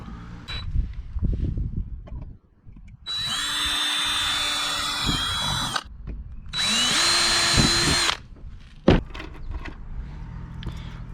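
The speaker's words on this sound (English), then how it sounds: "I'm gonna drill these out real quick and be ready to bolt down." Two sustained bursts of a power drill boring holes for bolting down rods on a homemade bait-launcher cannon, each lasting a few seconds with a steady whine, separated by clanks and handling noises.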